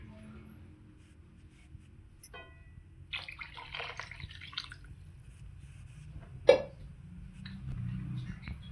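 Water pours into a pan for a spicy Maggi noodle dish in a short, splashy stream, followed by a sharp clink and a quiet, faint background.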